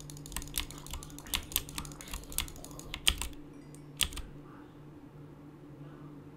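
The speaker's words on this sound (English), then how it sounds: "I don't know if he's typing." Rapid keystrokes on a computer keyboard clatter in an irregular burst for about four seconds, then stop, leaving a faint steady hum from a fan or room noise.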